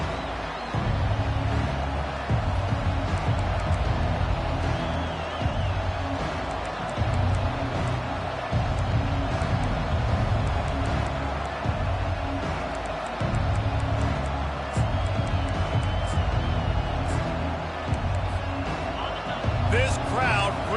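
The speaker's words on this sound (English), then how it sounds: "This crowd bringing an ear-splitting welcome to their visitors." In the NCAA 25 college football video game, a stadium crowd roars in a loud, constant wash of cheering and noise while a commentator talks over it almost throughout.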